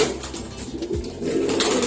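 High-flying pigeons coo softly nearby in a coop in Antalya, low throaty calls repeating over a background of faint ambient noise.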